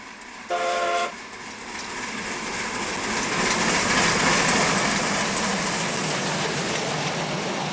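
A RENFE 141F steam locomotive hauls a passenger train; a short whistle blast sounds first, then the rumble and chuffing of the passing train build steadily and stay loud.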